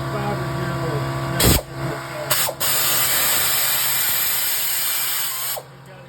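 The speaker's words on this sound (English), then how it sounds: "Air compressor running in the background." Air compressor running in a garage during axle seal work on a 1977 Chevy, a loud steady hiss and hum filling the space, broken by a couple of short sharp air bursts, with voices in the background.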